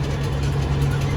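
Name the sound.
tractor with disc mower cutting hay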